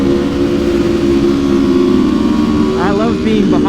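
A loud Aprilia V4 motorcycle engine fitted with an aftermarket exhaust pipe drones and revs steadily close by, with a shifting whine late on and voices talking over it.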